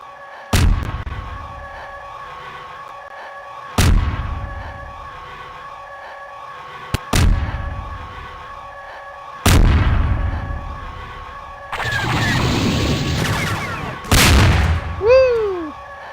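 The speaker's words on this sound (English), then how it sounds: "If you wish, you may slow down and open fire with your primary weapons." Primary weapons firing in a Star Wars GMod role-play game, five loud booming blasts spaced a few seconds apart over a steady engine drone, with a burst of crackling debris and a falling whine near the end.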